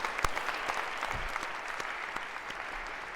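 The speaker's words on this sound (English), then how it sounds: "A round of applause for our other pair of volunteers here." A lecture-hall audience in a computer science class applauds volunteers, a soft, steady, moderately distant patter of many hands with a few sharper claps standing out.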